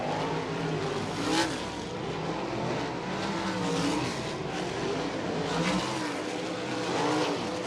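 USAC AMSOIL National Sprint Car engines during hot laps on the dirt at Butler Speedway, a continuous loud race-engine drone with rising and falling revs as cars circle, no speech over it.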